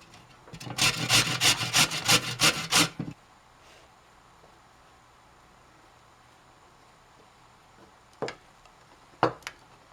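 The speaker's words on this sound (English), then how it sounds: "Now we are going to grate and drain cucumber." Cucumber being grated on a hand grater for tzatziki: a run of about ten quick, even rasping strokes for roughly two seconds, then quiet, with two short sharp knocks near the end.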